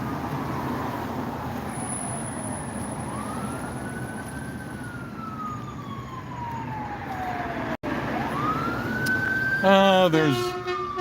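Emergency sirens wail continuously, sweeping up and down in pitch over steady traffic rumble, fairly loud and moving past, with a horn-like burst at the end.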